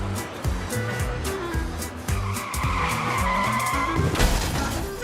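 An early-1900s motor car skids in a dramatized accident, tires squealing loudly for several seconds over a rumbling engine.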